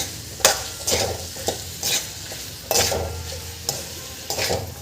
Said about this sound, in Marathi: मीठ घालून आपल्याला हे छान मिक्स करून घ्यायचं एकदा परत